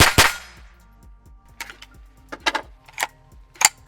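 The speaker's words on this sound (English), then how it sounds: "Let's go for a double tap." Two quick handgun shots fired as a double tap, sharp metallic cracks right at the start, followed by smaller clicks and clanks as the gun is handled.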